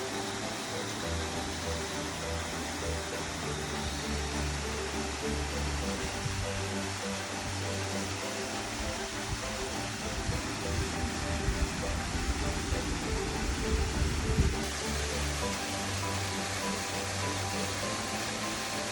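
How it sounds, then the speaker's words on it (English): Darwin Falls waterfall in Death Valley National Park, a constant rushing roar of falling water with a deeper rumble swelling near the end, steady and close throughout. "So we're at Darwin Waterfall."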